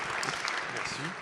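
Audience applause in a lecture hall at a local history talk on the Saint-Nicolas church, a short steady patter of many hands at moderate level.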